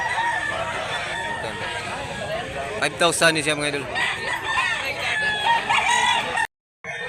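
A rooster crows loudly and nearby at a Cebu chicken market, its call rising above steady clucking from other fowl and general crowd noise while people talk close by.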